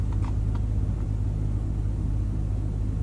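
A Tesla Model S P85 cruises on the highway, giving a steady, loud low road rumble and tire roar inside the cabin, with no talk.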